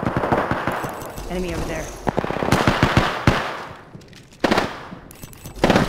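Rapid bursts of Devotion light machine gun fire in an Apex Legends match, sharp repeated cracks in clusters with louder volleys near the end, while a voice calls out briefly over the shooting.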